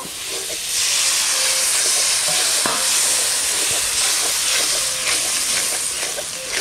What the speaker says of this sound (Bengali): হলুদ গুঁড়ো, লবণ, সামান্য জল দিয়ে মশলাটা কষিয়ে নেব।